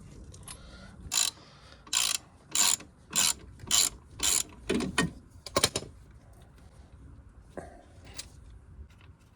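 A flat wrench ratchets a nut in a run of about eight rhythmic, close scraping-clicking bursts while a lift kit is fitted to a Mitsubishi Pajero 2, followed by a couple of sparser clicks.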